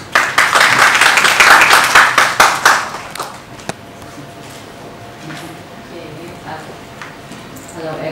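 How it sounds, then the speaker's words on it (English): Audience in a university cross-culture class claps for a lecturer, a dense burst of applause near and loud for nearly three seconds that thins to a few scattered claps, then fades into quiet room noise. "Please give her a round of applause."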